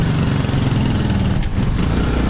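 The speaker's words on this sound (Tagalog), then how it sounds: "Tabi muna, may motor tayo sa likod." A motorcycle approaches from behind on a rural farm path, its engine a loud, steady buzzing drone close by, with slight wavering in pitch.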